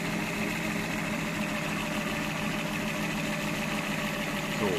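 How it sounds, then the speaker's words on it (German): A 1995 VW T4 van with an ACU engine idles steadily and close, a constant mechanical drone with faint vibration throughout, no talk over it. "der Motor läuft, 90 Grad, der Motor läuft"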